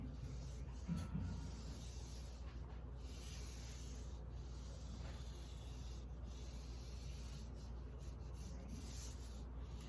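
A pencil sketches lines on paper in soft, continuous rubbing scratches, faint and close, over a low steady background hum.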